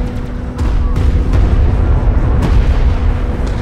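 Weapons fire strikes a command carrier in the sci-fi strategy game Homeworld: Deserts of Kharak, a loud, dense wall of booming blasts and rumbling impacts that keeps up throughout, with a few sharper cracks.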